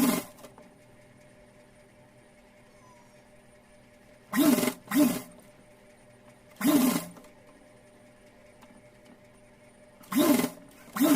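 A sewing machine stitches the bodice of a small Laddu Gopal doll dress to its waistband in short, loud, whirring bursts separated by quiet pauses, four or five runs in all.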